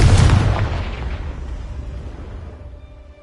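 The Confringo blasting spell in Hogwarts Legacy sets off a loud, deep explosion at the start, which rumbles off and fades over about three seconds.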